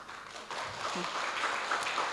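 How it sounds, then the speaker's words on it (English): Faint, steady applause from an audience at an international educational research conference as a speaker is welcomed, a soft continuous patter with a voice briefly audible. "let's welcome Dr. Lori Liza Di Bulayo with a warm round of applause"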